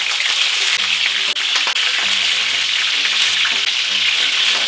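Chicken thighs for a fricassée sizzle steadily in a hot pan, a dense continuous frying hiss with faint low clinks of the pan, no voices.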